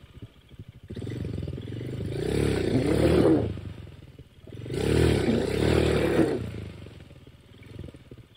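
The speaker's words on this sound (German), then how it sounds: "das ist das Hinterrad, was an den nassen Steinen durchrutscht." A motorcycle's rear wheel spins and slips on wet stones in two long bursts of revving engine with scraping, clattering tyre noise, separated by a brief lull.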